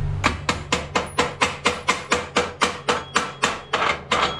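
A chipping hammer strikes slag off a 7018 Lincoln weld bead in a steady run of about fifteen sharp metallic knocks, evenly spaced and close, with no talking.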